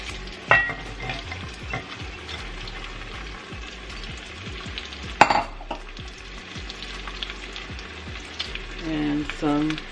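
Onion frying in a Dutch oven: a steady sizzle runs throughout, broken by scraping stirs and occasional clinks of a utensil against the pot, with a louder knock near the middle.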